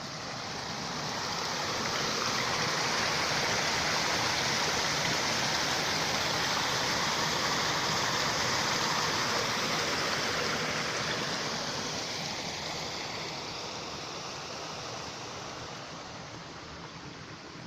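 Continuous rushing of a flowing mountain stream, a loud, steady broadband wash of water that softens slightly toward the end.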